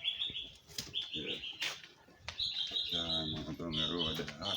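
Nightingales singing near a Jamaican roadside, with bright repeated chirps and warbles in bursts, fairly close and over a busy background of other sounds.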